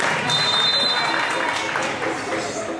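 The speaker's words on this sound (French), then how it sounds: "Les applaudissements s'il vous plaît" Spectators at a football match between Hafia FC and Foot Élite applaud the players, a loud, continuous wash of clapping and crowd noise that holds evenly throughout.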